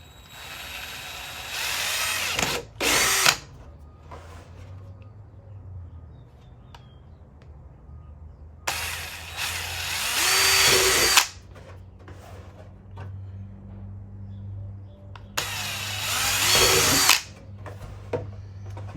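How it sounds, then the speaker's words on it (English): A power drill boring holes for a Krotov duckbill spoiler install whines loudly in three long bursts of several seconds each, separated by quieter handling noises and pauses. "Got 16 holes to drill over here,"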